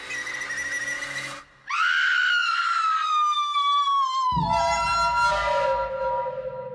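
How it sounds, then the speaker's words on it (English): A long, piercing female scream in a horror movie rises and wavers for several seconds, loud and shrill, briefly breaking before continuing in a strained high pitch. "that scream went on for so long"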